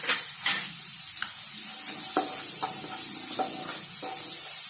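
Beans sauté in a pan with garlic for a vegetable sweet corn soup, giving a steady close sizzle with repeated sharp knocks and scrapes of stirring and no talk.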